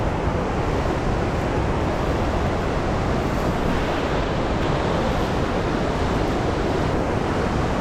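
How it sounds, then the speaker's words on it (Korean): A large waterfall beside a high mountain lake at 3580 m in Kyrgyzstan roars as a continuous, dense wash of rushing water, loud and close, with no voices. "와 여기 엄청난 폭포가 있습니다."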